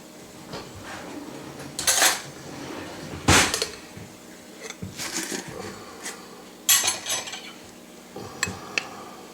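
A spoon stirring bouillon into liquid in a cooking pot for spicy beef stew, giving irregular metallic clinks and scrapes against the pot in several separate bursts over a quiet background.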